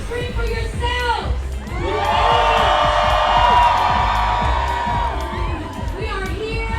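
A large outdoor crowd at LA Pride screams and cheers in a loud, sustained swell that peaks, then tapers into scattered whoops, while an amplified voice speaks before and after.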